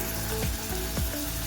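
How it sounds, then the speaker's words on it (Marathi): Chopped onion frying in a pan with green chillies and garlic, a steady close sizzle with a couple of brief stirring scrapes, no talking. "तर बघा आपला कांदा होत आहे छान"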